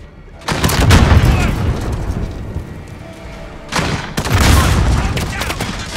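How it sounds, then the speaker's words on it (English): Rocket launches and heavy blasts in a video game firefight, with two long roaring bursts of explosive noise, loud and close, separated by a quieter rumbling stretch. "Fire a rocket at the corner of that."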